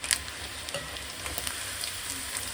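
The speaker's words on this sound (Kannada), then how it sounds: "ನೋಡ್ತಿರ್ಬೋದು ಕಬಾಬು ಕೂಡ ಚೆನ್ನಾಗಿ ಫ್ರೈ ಆಗಿದೆ." Mint chicken kebabs frying in oil in a pan, a faint steady sizzle with scattered small pops and crackles.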